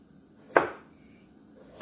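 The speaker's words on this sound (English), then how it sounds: "you can go ahead and cut it in half and then slice it" A single crisp chop of a knife through a carrot onto a board, close and sharp, surrounded by quiet.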